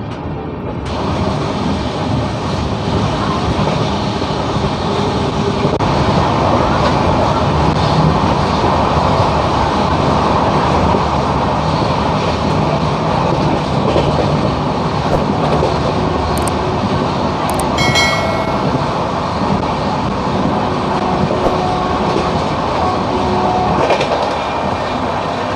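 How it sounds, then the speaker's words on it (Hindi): The Poorva Express, running Howrah to New Delhi, pulls out of Dehri on Sone station in a broad, sustained rumble of rolling wheels and carriage noise, loud and steady throughout with a few faint squeals near the middle. "देखिए आप इस ट्रेन का डिपार्चर"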